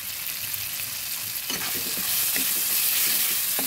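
Onions and spices with turmeric and salt fry in a pan and get stirred, a steady sizzle joined partway through by a series of scraping, clattering stirs that grow slightly louder toward the end.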